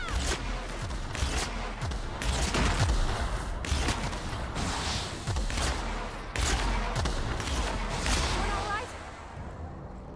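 Rapid video-game gunfire from The Outer Worlds, loud bursts of shots repeating across the whole stretch, mixed with other game effects and a voice talking over it.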